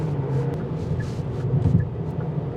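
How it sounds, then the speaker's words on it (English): A Kia K4 petrol engine pulls hard in a low gear in sport mode while joining a freeway around a bend, a steady close-up drone heard from inside the cabin with no talk. "petrol motor."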